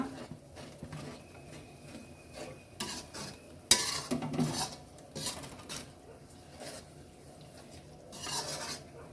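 A freshly ground masala paste is stirred and scraped around a pan with a spoon, giving soft repeated rubbing and clinking strokes and a louder clatter midway, close up over a faint sizzle.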